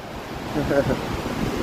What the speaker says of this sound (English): so here's the waves